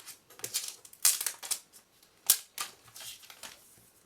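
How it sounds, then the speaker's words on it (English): Crinkly plastic cellophane peeled off a new Apple iPad during unboxing, with several sharp rustling bursts and quieter crackles between them, close and fairly faint with no talk. "You can simply turn it over and peel like that, and the cellophane peels off."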